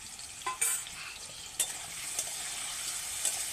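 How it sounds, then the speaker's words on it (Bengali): Potatoes with salt and turmeric frying in a pan over medium heat, a soft steady sizzle with a few light stirring scrapes and clinks, fairly faint. "এইবার এটাকে মিডিয়াম আঁচে খুব সুন্দর লাল লাল করে ভেজে নেব"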